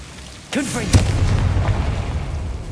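A Confringo blasting spell in Hogwarts Legacy bursts with a swooping magical whoosh and then a loud boom. A lingering rumble trails off afterward.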